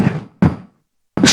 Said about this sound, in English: And this is the sound of their guns.